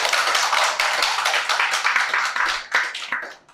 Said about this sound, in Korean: 일단 박수 한번 치시죠.